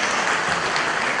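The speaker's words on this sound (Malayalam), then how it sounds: "ഒരു നല്ല കൈയടി." A short, loud burst of steady applause from the crowd at a palliative hospital inauguration, continuous throughout with no speech over it.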